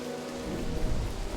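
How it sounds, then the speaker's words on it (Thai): Rain and thunder in the video game Don't Starve: a steady wash of rainfall with a low rumbling thunder swelling midway, continuous and fairly loud, with no talking. "คือฝนมันตกอะครับ"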